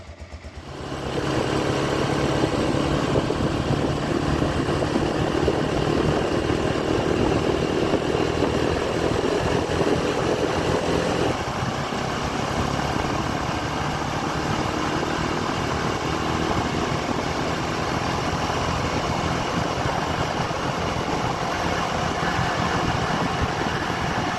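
A motorcycle climbing toward a mountain pasture in the Transcarpathian Carpathians starts up and rides off, its engine a loud, continuous rumble with wind noise that holds steady for the whole stretch.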